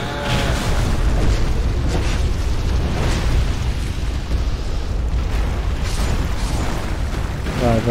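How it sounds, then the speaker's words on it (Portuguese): A dense, loud rumbling blast roars continuously from a bomb explosion in the video game Dark Souls 2, with a thick low-end boom and no pauses or voices. "Vai passar mais uma bomba então,"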